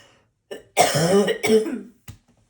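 Several harsh coughs in quick succession, close and loud, followed by a short final cough after a pause.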